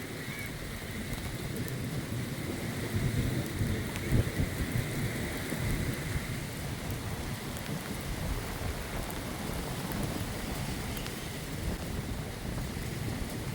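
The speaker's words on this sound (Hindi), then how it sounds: "यकीन माने बड़ा मज़ा आ रहा है बारिश में" Steady heavy rain hisses throughout, with low rumbling that suggests distant thunder rolling beneath the downpour.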